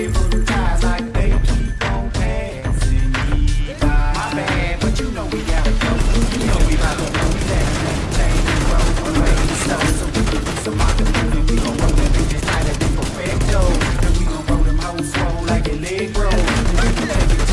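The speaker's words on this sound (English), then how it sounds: "they're shooting my shield and they're trying to do damage on me" Enemies firing guns at a player's shield in a video game, rapid bursts of gunfire and impacts in a loud, continuous barrage with a musical score underneath.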